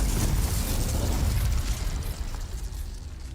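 A Confringo explosion spell in Hogwarts Legacy, a loud booming burst that rumbles heavily at first and then breaks into crackling debris as it trails off.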